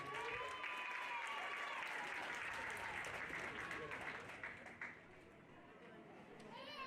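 At a pony show jumping prize ceremony, a crowd applauds the bronze-medal cadet team, dense clapping with some chatter that fades after about five seconds as an announcer speaks over it through a loudspeaker.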